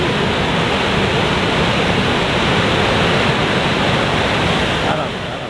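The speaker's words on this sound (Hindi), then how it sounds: "ये देखिए कितना खूबसूरत झरना है" A broad, steady roar of a mountain waterfall near Madhmaheshwar temple in Uttarakhand, loud and constant throughout, with no voices heard.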